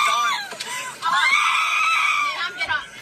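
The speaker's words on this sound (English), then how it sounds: "that's enough of that loud ass screaming" A woman screams loudly and repeatedly aboard an airplane, long piercing wails rising and falling over about three seconds with brief breaks between them, close and dominant over cabin noise.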